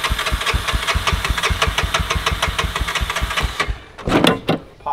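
A Honda FourTrax 300 ATV engine with water in its fuel runs close and loud with a rapid, uneven knocking pulse, then stumbles and nearly dies before sputtering on, with a voice briefly heard.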